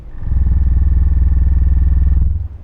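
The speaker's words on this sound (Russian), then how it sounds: "начинаем мы сразу с запуска двигателя" Car engine starting up in the driving simulator City Car Driving, played through a PXN V12 Lite wheel setup: a loud, close, steady low rumbling idle that kicks in abruptly, holds for about two seconds, then cuts off.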